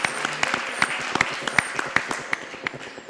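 Studio audience applauding on a French television quiz show, a moderate wash of clapping with scattered sharper individual claps, heard at a middling distance for a few seconds.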